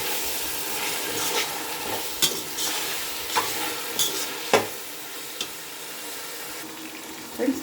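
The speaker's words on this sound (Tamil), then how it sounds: "இப்போ நாம் தக்காளி, உப்பு போட்டுட்டு நல்லா வதக்கிக்கலாம்." Tomatoes with salt fry and get stirred in a pan for mutton biryani, a soft steady sizzle broken by occasional sharp scrapes and clinks of the spoon against the pan.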